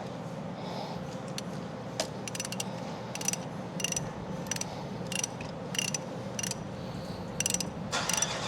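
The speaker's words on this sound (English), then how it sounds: "Filter wrench on there." Ratcheting clicks come in short bursts as a filter wrench loosens the oil filter on a Toyota 1KZ-TE engine, over a steady low background hum with no talking.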